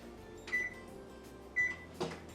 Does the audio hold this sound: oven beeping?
yes